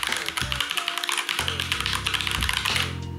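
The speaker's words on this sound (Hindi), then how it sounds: "Now I am using कीक्रॉन K6 mechanical keyboard with my MacBook." A Keychron K6 mechanical keyboard used with a MacBook clacks in quick, crisp keystrokes close up, with a low tonal hum running beneath the typing.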